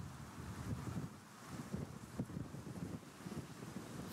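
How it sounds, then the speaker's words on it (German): Spring wind rising on Easter Monday in the Vossmoor countryside, a steady low rushing buffet against the microphone with soft surging gusts, fairly quiet and continuous, with no speech. "Am Ostermontag nimmt der Wind wieder spürbar zu."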